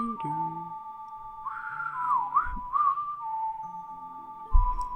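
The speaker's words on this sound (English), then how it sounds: "I just learned how to whistle, by the way," A person whistles a melody from a video game soundtrack, a clear sustained tone that wavers and slides in pitch at close range, with faint background music and a few soft knocks underneath.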